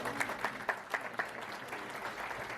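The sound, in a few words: church congregation applause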